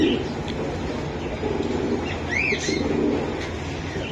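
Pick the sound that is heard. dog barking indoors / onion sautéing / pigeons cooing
pigeons cooing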